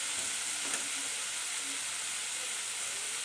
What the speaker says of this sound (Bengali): আদা রসুন আর জিরে একসাথে বাটা ছিল, সেই বাটাটা আমি এখন দিয়ে দেব।